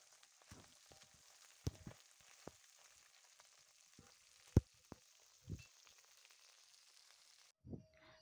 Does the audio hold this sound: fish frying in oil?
yes